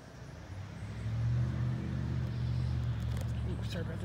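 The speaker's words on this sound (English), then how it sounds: "There's a KC-135 that's gonna be coming in." A KC-135 aircraft passes over a house as a low, distant rumbling drone that swells in after a moment and holds steady, fairly faint and without distinct detail.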